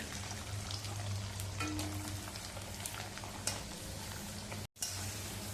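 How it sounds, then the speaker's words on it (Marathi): Rice flour Bobby papad fry in hot oil, a steady close sizzle with crackling bursts and bubbling throughout, broken by a very brief drop near the end, with no talk. "आणखी तेलामध्ये बॉबी पापड घालूया."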